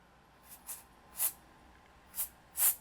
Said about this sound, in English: I'll get the air duster, turn it upside down, which turns it into instant freezer spray, and let's spray